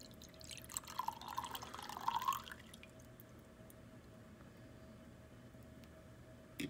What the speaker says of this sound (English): it says that pour the water into the pre-weighed beaker